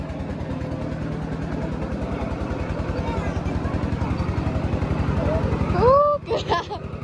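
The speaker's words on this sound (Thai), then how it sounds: "รถไถมาขึ้นทุกคน" A farm tractor engine runs with a steady, throbbing pulse throughout, close and fairly loud, while people talk over it and a few sharp squeaks or chirps break in near the end.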